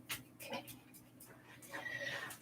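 A dog breathing heavily, with quick panting huffs and a few soft whimpers at close range, gentle and uneven with pauses between bursts.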